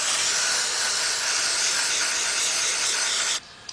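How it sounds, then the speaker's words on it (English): Carburetor cleaner sprays from an aerosol can onto Volkswagen Beetle engine parts, one loud continuous close hiss lasting about three seconds before it stops abruptly, with no talking. "Get your carburetor cleaner."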